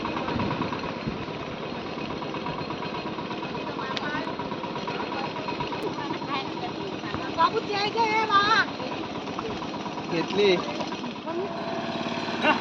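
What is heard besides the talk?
ploughing machine engine running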